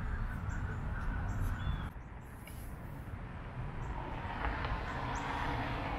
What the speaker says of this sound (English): So I kind of apologize for the road noise